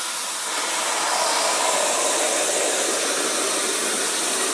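Krown rustproofing oil sprayed into a car door cavity, a loud continuous close hiss of aerosol spray holding steady throughout with no talk.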